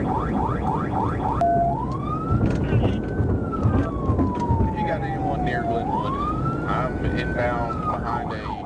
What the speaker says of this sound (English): keeping his distance while the siren and lights were activated